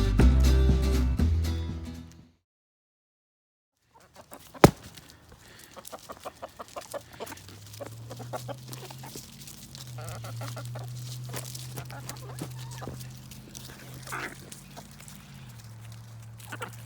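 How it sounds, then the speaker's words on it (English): Chickens and a rooster in a chicken run: a loud burst of clucking, a brief pause, then steady nearby clucking with a long, drawn-out rooster wail running through the latter half. "He sounded like a sorry ass rooster."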